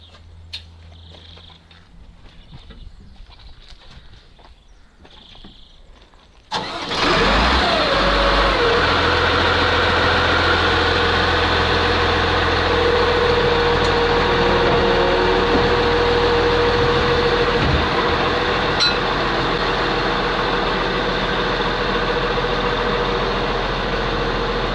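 Heavy tracked ATS-59 vehicle with a V8 turbo engine firing up after quiet background, then settling into a loud, steady idle with deep low rumble that runs on unchanged for a long stretch.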